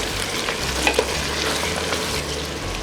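Garlic frying in a pan for carrot sauce while being stirred, a steady broadband sizzle with a couple of sharp utensil clicks near the start, close and fairly loud, no voices.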